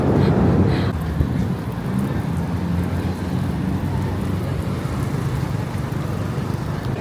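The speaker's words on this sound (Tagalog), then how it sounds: "kasi ang lakas pa ng ulan" Steady heavy rain in Kuala Lumpur hisses continuously, with a low thunder rumble early on that fades into the constant downpour; no one speaks.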